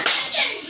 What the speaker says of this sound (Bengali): ওর জন্য জোরে একটা হাততালি দাও